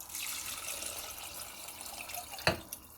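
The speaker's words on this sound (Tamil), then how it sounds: "ஸோ 3 டம்ளர் தண்ணி ஊற்றுறேன்." Water pours into rice and lentils in a cooking pot as a soft, close splashing trickle, finishing with a short burst and a couple of drips.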